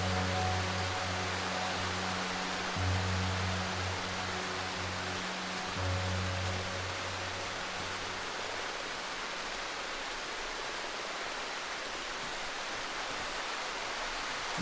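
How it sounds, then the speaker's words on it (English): Steady rain in the survival horror game Darkwood, a dense continuous hiss that holds constant for the whole stretch, with faint low tonal hums under it and no voices. "Really hard to see out here with the rain."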